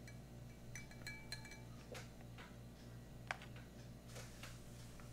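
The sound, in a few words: stirring Russian ration food with a pate knife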